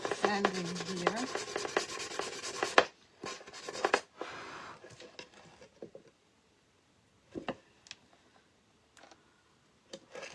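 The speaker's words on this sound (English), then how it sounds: "just a little bit of sanding here." Hand sanding a decoupage piece coated in chalk paint gives a dense, steady rubbing scrape for a few seconds, then stops. Shorter faint rubs and small ticks and taps follow, with quiet gaps between them.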